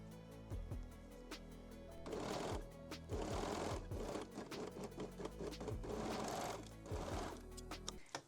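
A sewing machine stitches a side seam on lingerie fabric, its fast needle chatter coming in steady runs with brief pauses between, close and clear with a low mechanical hum underneath.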